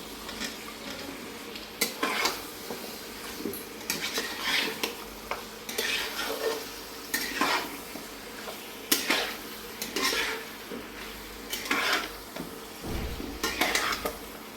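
Potatoes and chicken fry together in a pan, with a continuous sizzle under repeated scraping, clinking stirs at an irregular rhythm, close and moderately loud.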